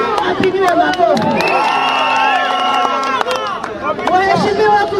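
A crowd at a Kenyan political campaign rally cheers, whoops and shouts in loud, overlapping bursts, with a general hubbub of voices rising and falling around the excited calls.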